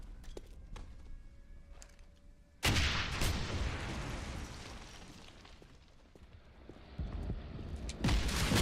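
A grenade in a Wolfenstein game goes off with a sudden loud blast that rolls into a long rumbling decay, followed by more heavy thuds and booms, after several sharp shots beforehand.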